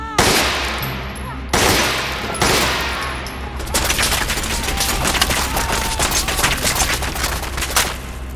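Gunfire in the video game Fallout: Frost: a few loud separate shots open, then a rapid sustained burst of automatic fire, close and dominant, with no voices.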